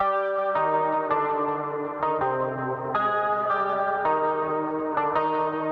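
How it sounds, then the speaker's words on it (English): Three layered electric guitars in a post-punk style beat, two playing a high octave panned left and right over a lower center part, ringing sustained chords that change roughly every second, loud and steady without talk. "with those two guitars playing that high octave and panned left and right"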